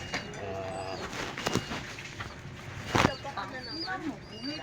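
Soft pigeon coos and low bird calls come through intermittently, mixed with a person talking and a couple of sharp handling noises.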